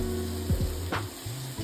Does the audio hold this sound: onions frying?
yes